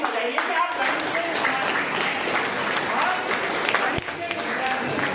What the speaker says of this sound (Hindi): एक बार जोरदार स्वयं के लिए ताली बजाइए